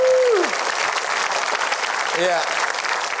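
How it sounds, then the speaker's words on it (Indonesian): A studio audience at a talk show claps loudly and continuously, a dense sustained applause that stays strong throughout, with a host's voice briefly heard over it. "sekali lagi kita berikan aplaus yang meriah untuk Moby dan Sade"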